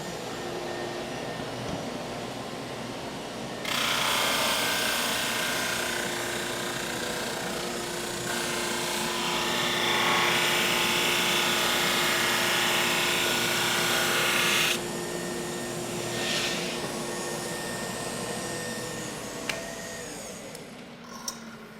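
A Super Max 16-32 drum surface sander's steady high-pitched whine and roar runs for about ten seconds, then drops back to a lower motor hum with a few clicks.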